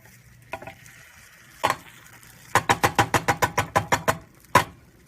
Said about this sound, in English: Push it aside and let the liquid flow beneath, and that way you're getting more of the egg to cook.